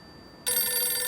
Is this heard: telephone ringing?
yes